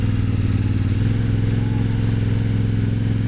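Adventure motorcycle creeping slowly up a hill during rider training, its engine idling in a steady low, even putter close by, with no voices over it.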